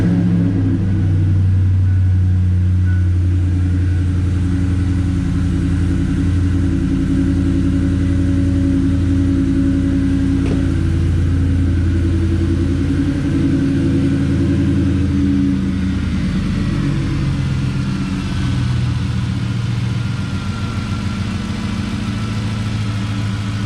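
A 2008 Ford F150 4x4 engine runs at a steady idle throughout, its close, loud, low rumble continuous and even, with no talking.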